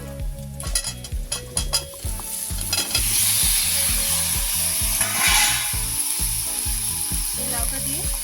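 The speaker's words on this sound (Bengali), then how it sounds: "এবার এই আলুর সাথে আমি এই লাউটা দিয়ে দেবো।" Chunks of bottle gourd go into a pan of frying potatoes, hissing and sizzling loudly while a utensil clatters and scrapes in a rhythmic stirring pattern.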